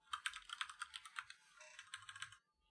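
Quick, quiet clatter of fingers typing on a computer keyboard, a fast run of keystrokes with a brief pause midway, then stopping.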